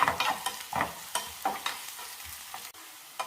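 Onions fry in a pan for papaya masala curry and are stirred with a spoon. Close scraping strokes come in an uneven rhythm over a soft, continuous sizzle.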